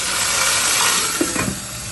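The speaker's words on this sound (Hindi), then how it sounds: "अब हल्का सा पानी का छींटा देंगे।" Water splashed onto golden-brown onions frying in oil gives a steady, bright sizzle and hiss throughout, with a few small pops and crackles close by.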